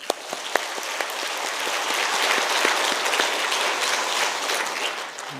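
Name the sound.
church congregation applause of thanks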